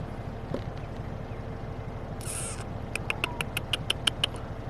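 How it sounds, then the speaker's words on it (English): Crow cawing in a wildlife park on a road trip, a quick run of about eight sharp, evenly spaced calls near the end, moderately loud over a low steady rumble. "I hear you, Crow."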